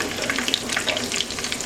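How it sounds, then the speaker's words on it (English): Plain tofu sizzles and crackles steadily in hot oil, a dense close-up frying hiss with scattered pops and light bubbling throughout, no voices. "Just going to go ahead and drop the plain tofu right in the oil."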